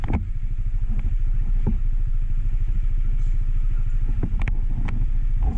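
A motorcycle engine idles nearby with a steady, loud rhythmic putter, a few clanks and taps rising over it now and then.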